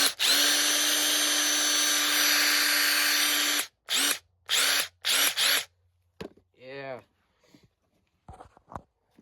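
A RIDGID 18V R86002 impact driver, a brushed tool, runs in one steady whine for almost four seconds, then gives four short trigger bursts. A voice follows briefly afterward.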